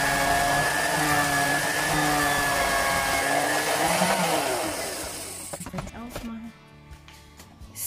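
A kitchen machine grinds and cuts red cabbage, a loud steady whirring churn that runs for several seconds, then winds down into a few clattering knocks as the blade stops.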